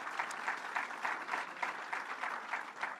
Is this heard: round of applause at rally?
yes